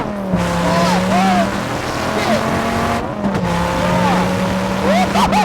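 A 1994 Dodge Viper RT/10 accelerating hard, loud engine drone climbing steadily through the gears with a brief shift break, heard from inside the car with voices mixed in.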